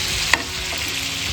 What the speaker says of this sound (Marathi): सो बटर म्हाजें मेल्ट जालें बरें